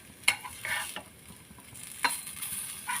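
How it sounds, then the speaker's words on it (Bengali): Rice-flour tikli pitha fry in a pan with a soft, steady sizzle and a couple of sharp clicks of a utensil turning them, close and fairly quiet. "সবগুলো কিন্তু আমি এরকমইভাবে ভেজে তুলে নেবো উল্টে।"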